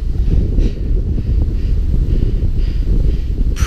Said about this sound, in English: Definitely getting windy up here.